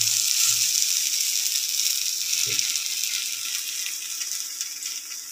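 Potatoes fry steadily in a pan with a constant bright hiss and sizzle throughout, and a brief low clunk partway through.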